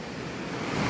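Floodwater from an overflowing river rushes into a rice field after continuous rain, a dense, steady roar of churning water that swells slightly louder toward the end.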